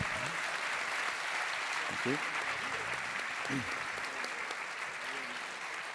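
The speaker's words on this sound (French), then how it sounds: "Je crois qu'on peut vraiment les applaudir." Audience applause at a VR and AR awards ceremony at Laval Virtual, a steady continuous wash of clapping from a large room, with a brief voice heard over it.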